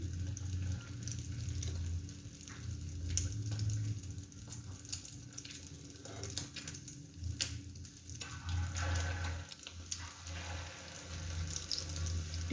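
Chicken potato cutlets sizzle steadily in hot oil over a medium flame, a continuous close frying hiss with a low background hum and no talking.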